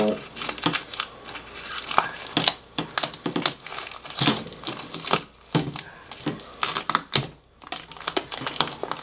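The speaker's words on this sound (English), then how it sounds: "Now, you just peel off this tape that holding a" Double-sided tape being peeled off the plastic cover of an LTM190EX-L01 LCD panel, a run of crinkling, tearing crackles and sharp clicky bursts close to the mic, with some speech-like sound mixed in.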